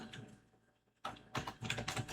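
Quiet typing on a computer keyboard, a few faint taps followed by a quicker, louder burst of keystrokes close up.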